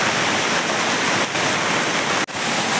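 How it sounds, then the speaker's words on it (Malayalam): Rainwater rushing beneath a culvert under the NH 66 highway at Randathani, Malappuram, during a downpour: a steady, loud, dense wash of flowing water that fills the whole span, with one brief dip near the end. "വെള്ളം ഇങ്ങനെ ഒഴുകി വരികയാണ്"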